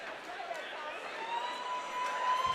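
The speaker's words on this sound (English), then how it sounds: "Well, you can hear everyone in the crowd. You can hear Kawhi's fans." A fight night crowd at a combat sports event cheers before the bout, a distant, sustained roar with a faint whistle-like tone. Commentary runs over the crowd throughout.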